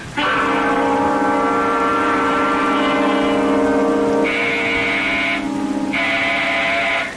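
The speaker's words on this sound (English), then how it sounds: "When Sandy pushes that door buzzer, listen to it carefully, Florence." A door buzzer sound effect from an old-time radio drama gives a loud, harsh, continuous electric drone, steady for several seconds with a brighter tone cutting in twice near the end, and no voices over it.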